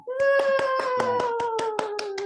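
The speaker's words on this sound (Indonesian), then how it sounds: "Tepuk tangan dulu untuk kelompok 2" Group clapping in a classroom for a student team, about a dozen evenly spaced unison claps, with a child's sustained vocal sound running through them.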